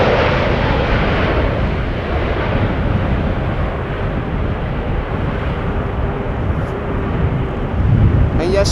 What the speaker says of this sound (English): that is an A380 in the background, which you also saw land over here on this runway